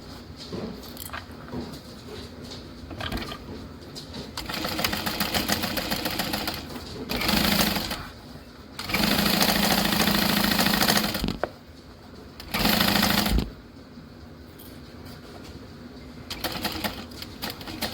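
A sewing machine stitches the Monroe handbag in several separate runs, its rapid mechanical whirring starting and stopping with quieter pauses between bursts.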